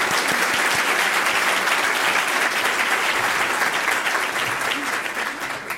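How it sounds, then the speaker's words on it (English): A club luncheon audience at a nonprofit panel gives a full, steady round of applause, dense overlapping hand claps filling the room at fairly high volume, gradually thinning out toward the end. "Let's give them a round of applause."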